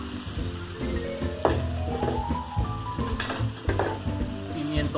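Garlic, onion and bell pepper sautéing in a pan for a chicken and seafood paella, a steady close sizzle with a few scrapes and clinks of stirring throughout.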